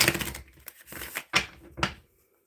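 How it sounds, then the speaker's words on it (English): Tarot cards being shuffled by hand, a few quick riffled bursts of papery flicking and tapping, close and fairly loud, with brief pauses between and no talking. "Shuffling for Evie Lion."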